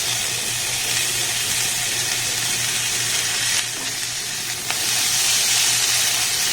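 Three kinds of capsicum and mixed vegetables fry in a pan for a rice dish, giving a steady, even hiss and sizzle up close that runs without pause, dipping briefly once as the pan is stirred.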